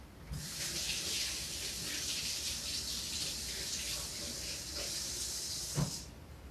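A kitchen tap runs for hand washing, a steady close hiss of flowing water lasting several seconds before shutting off with a small knock.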